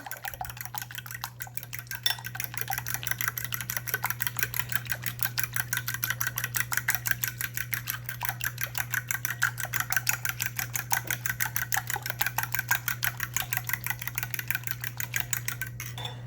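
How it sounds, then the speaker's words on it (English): Fork rapidly beating an egg into buttermilk in a bowl for schnitzel batter, a steady fast clicking and scraping rhythm against the dish over a constant low hum, close and without talk. "now that we have our egg in there, we're just going to go ahead and beat this in really well"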